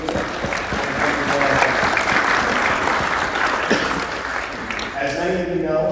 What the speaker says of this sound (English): So I just want to give you a round of applause first